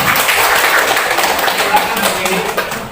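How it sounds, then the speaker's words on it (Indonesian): A classroom full of students claps hands together, a busy loud patter of many claps mixed with voices talking over it. "Oke, tepuk tangan dulu semuanya."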